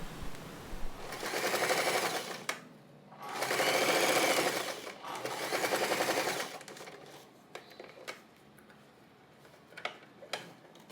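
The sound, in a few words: sewing machine stitching fabric pieces of zip pouch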